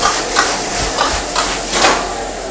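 Oil sizzles hard in a wok as ingredients are stir-fried in a chifa-style kitchen, a loud continuous hiss broken by rhythmic scraping strokes of the utensil, close up and without talk.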